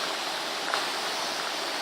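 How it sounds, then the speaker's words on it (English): Water at a rolling boil on a camp stove, a steady close bubbling hiss with no breaks, on a rainy afternoon outdoors. "Nice rolling boil."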